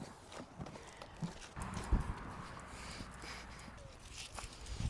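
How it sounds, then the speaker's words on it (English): A horse walks back to a field, its hooves clip-clopping in an uneven rhythm of soft thuds over a rustling outdoor background, with a person talking nearby. "take the horse back to the field first"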